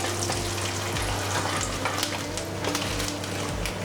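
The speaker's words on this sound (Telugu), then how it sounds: "ఇప్పుడు వెల్లుల్లిపాయలు, జీలకర్ర, ఆవాలు లైట్గా ఫ్రై చేసుకుని" Garlic, cumin and mustard seeds fry in hot oil for a curry leaf chutney, giving a steady, close sizzle with scattered crackles and pops throughout and no talking.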